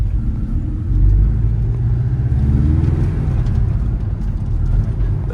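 Rebuilt, previously wrecked Porsche Cayman S with a manual gearbox, heard from inside as it drives: a steady low engine rumble that swells and eases with the shifts and runs on without a break. No one speaks over it.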